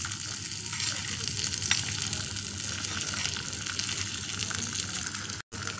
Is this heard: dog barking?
no